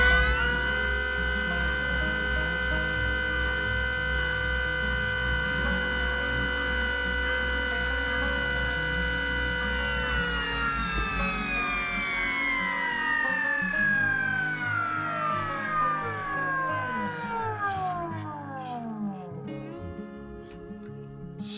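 Electric motors on a 48V battery of a DIY electric boat run steadily during a first test, with a strong tonal whine and harmonics that hold level for several seconds and then glide smoothly down in pitch as they slow.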